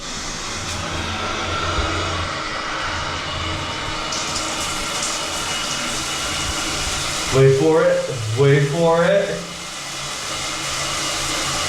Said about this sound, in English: the shower's like blasting out to the side there